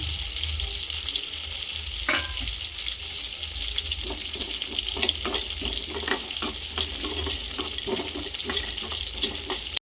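Peanuts and sesame seeds dry-roasting in a pan on a stove, giving a steady hiss with scattered light crackles and clicks of seeds shifting, close and continuous with no voices.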